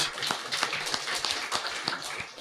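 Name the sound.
congregation clapping hands in church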